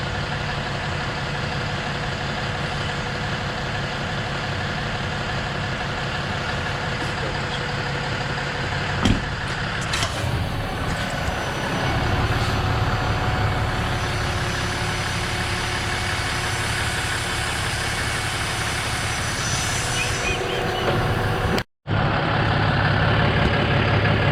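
A Ram 4500 truck idles steadily just after its first start-up following a transfer-case explosion, a loud, constant low engine rumble close by, with a slight rise in tone partway through and a brief dropout near the end.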